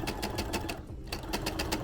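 Close, steady whirring of a sewing machine stitching fabric pieces for a beginner plush toy, with rapid needle chatter running almost continuously through a brief stretch.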